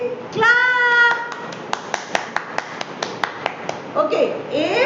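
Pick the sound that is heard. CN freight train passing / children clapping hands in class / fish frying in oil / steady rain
children clapping hands in class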